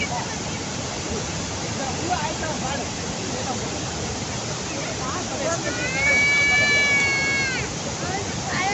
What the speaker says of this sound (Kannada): ನೀರು ಬೀಳ್ತಿದವಲ್ಲ ಹೊಗೆ ಹೆಂಗೆ ಹೇಳ್ತಿದೆ ನೋಡು